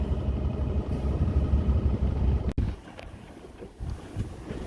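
A sailboat under way in a 12 to 15 knot wind on a crossing toward Ireland: steady wind rush and water noise, interrupted by a brief dropout, then softer gusts and hull wash.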